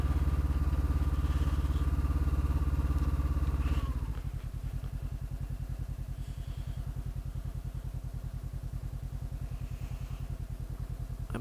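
A motorcycle engine on Atigun Pass runs loud and close, steady at first, then drops to a lower idle with a pulsing, chugging rhythm.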